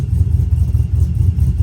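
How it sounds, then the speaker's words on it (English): A cammed LS V8 runs at idle on a tune with an over-and-under timing change, giving a rough, uneven, pulsing lope that sounds like a bigger cam, loud and close with no talk. "This is with the over and under timing change made."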